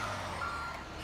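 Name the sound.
garbage truck reversing beeps in GTA 5 Online video game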